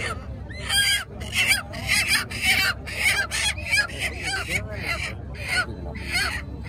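At a poultry market, a rooster and other fowl call in repeated harsh bursts close by, mixed with people talking.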